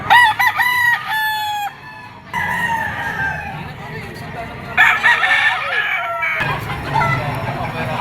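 Gamecock roosters at a poultry market in Padre Garcia, Batangas, crow repeatedly in loud, ringing calls, overlapping with clucks and busy market chatter in the background.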